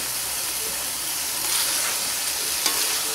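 Cut cauliflower tossed into potatoes, onion and tomato masala frying in a pan gives a steady close hiss and sizzle, with a brief stir near the end and no talking.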